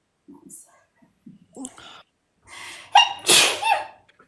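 A single sneeze, close and sharp, bursting out near the end after soft breathy vocal sounds and brief quiet murmurs.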